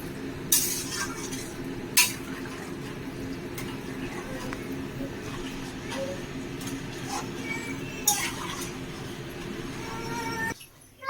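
Chili chicken frying and being stirred in a home kitchen pan, a steady sizzle under occasional sharp clinks of a utensil against the metal, with a low hum running throughout and a brief cut near the end.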